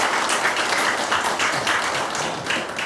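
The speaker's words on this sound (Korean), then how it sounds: "감사하다고 좀 다시 한번 큰 박수 부탁드립니다" An audience claps loudly and steadily after a lecture about steelmaking and industrial history, a dense, continuous burst of many hands close by, with no speech over it.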